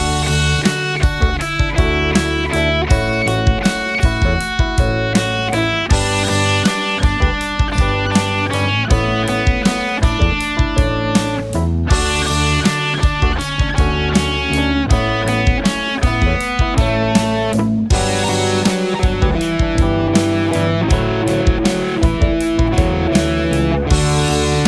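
A distorted electric guitar plays a rock lead improvisation built on repeated patterns with passing tones over a backing track, loud and continuous for about 25 seconds, with no talking.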